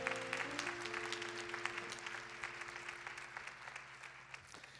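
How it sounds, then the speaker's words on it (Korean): A church youth congregation claps in blessing for a couple about to marry, sustained crowd applause with scattered sharp claps under a held tone, slowly thinning near the end. "큰 박수로 좀 축복합시다."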